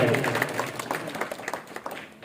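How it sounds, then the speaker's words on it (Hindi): A crowd at an education talk claps in tribute to Dr. Bhimrao Ambedkar, a brief burst of sharp, scattered hand claps that tapers off over a couple of seconds, with a voice mixed in. "ऐसे शख्स के लिए एक बार जोरदार तालियां हो जाए।"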